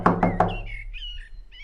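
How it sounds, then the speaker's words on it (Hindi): Three quick knocks on a door in a cartoon, crisp and close in an even rhythm, followed by chirpy bird-like squawks and tweets. "कोई काफी देर से दरवाजा खटखटा रहा है"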